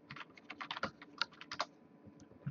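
Rapid, irregular keystrokes on a computer keyboard, typed close by in short bursts with a brief pause near the end, while searching a settings file to fix random shutdowns on a Logitech G930 headset; no talking.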